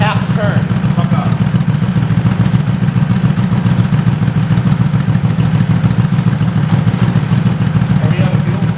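A Yamaha G1 golf cart engine runs with a rough, steady clattering thrum, loud and close, and keeps chugging for several seconds.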